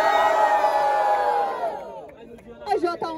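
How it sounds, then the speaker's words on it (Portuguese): A rap battle crowd at the Batalha da Leste grand final cheers and shouts loudly, then the roar fades over a couple of seconds into scattered whoops and calls. "barulho pra quem gostou das rimas de AJ"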